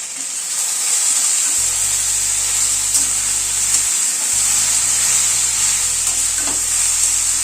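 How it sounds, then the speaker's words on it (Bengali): Drumstick vegetable (sajna stalks) frying in a pan, giving a continuous bright sizzle with occasional scraping stirs, close and steady, with a low background hum and no talking. "সবজিটা অনেকটাই কিন্তু ভাজা ভাজা মতো হয়ে এসছে, আর একটু ভাজা ভাজা মতো হবে।"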